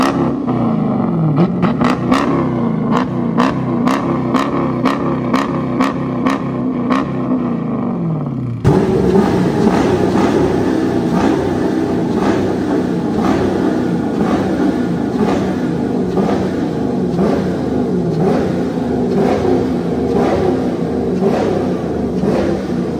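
A Dodge Challenger R/T fitted with loud quad exhaust tips: a sharp run of quick throttle blips, then a sustained, heavy roaring rev that holds loud and close for the rest of the clip.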